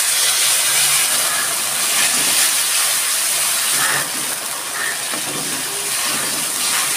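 A ground cumin and coriander paste hits hot oil in a pan while cooking an ilish fish and gathi kochu curry, producing a steady, loud, broadband sizzle that eases slightly partway through; no talking.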